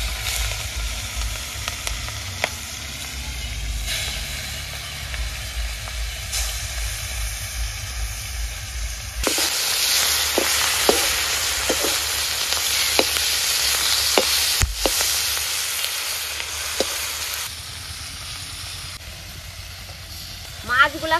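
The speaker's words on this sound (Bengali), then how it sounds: "মাখানো হয়ে গেছে, এবারে তেলে আমি ছেড়ে দেব।" Marinated prawns fry in hot oil, a continuous sizzling hiss that swells loudly partway through when they go into the pan, with sharp spatters and stirring. A voice talks at times over the cooking.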